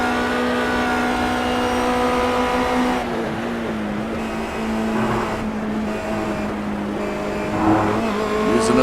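Race car engines in iRacing at the Daytona road course, a sustained high-pitched whine that shifts with gear changes and revs while cars pass, with commentary talk faintly beneath.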